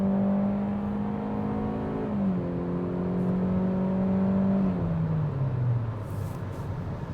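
A Hyundai Elantra SEL idles with a steady, smooth engine hum that steps down in pitch twice and settles lower, close and continuous, with no talking.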